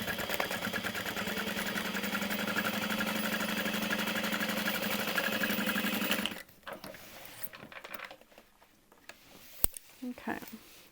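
A sewing machine stitches a handbag with a fast, steady mechanical chatter for about six seconds, then stops, leaving quiet handling noise and a voice.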